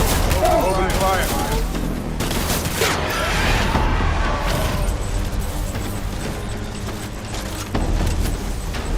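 Dense bursts of automatic gunfire from a firefight in the video game Death Stranding, loud and continuous through the whole stretch, layered over a busy game soundscape.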